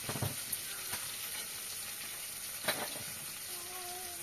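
Tomato pieces fry in oil for an egg pulao, giving a steady sizzle with a few scraping stirs and one louder clatter near the middle, all close and without talk.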